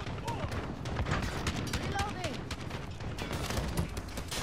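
AA-12 automatic shotgun fired in a multiplayer shooter game, with dense rapid bursts of blasts mixed into busy game noise while players talk over it.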